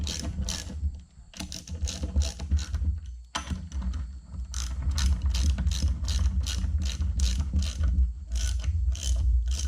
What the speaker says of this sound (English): Now, I'm going to put this back together with a ratchet.